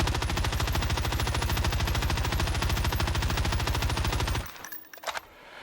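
Full-auto FARA assault rifle firing at long range in Warzone, a rapid, evenly paced stream of loud shots for about four seconds that stops abruptly, followed by faint scattered game sounds.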